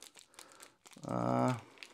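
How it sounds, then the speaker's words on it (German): A plastic parts bag from a COBI IS-2 heavy tank building-block kit crinkles and rustles close by, followed by a brief voiced sound over the handling. "Ich hole noch mal ganz kurz hier die Tüte her."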